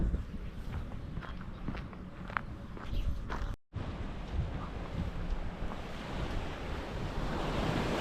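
Sea waves wash onto the beach at Hopton on Sea in a steady, broad surf roar, mixed with gusty wind buffeting the microphone. A brief dropout falls midway, then the surf continues loud and close.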